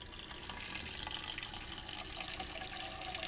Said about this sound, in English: I fill the water up about an inch to an inch and a half over the top of the egg